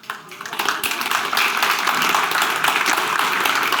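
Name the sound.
audience clapping at a lecture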